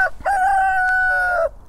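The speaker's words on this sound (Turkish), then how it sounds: "Öttü demin. O horoz." A rooster on a chicken farm crows once, loud and close, a drawn-out cock-a-doodle-doo lasting over a second.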